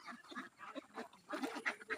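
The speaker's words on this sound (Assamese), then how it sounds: "চাব পাৰে 10টা হাঁহ ধুনীয়াকৈ খেলি আছে" Ten domestic ducks playing in a field give a steady stream of soft, overlapping quacks and honks, moderately close and fairly quiet.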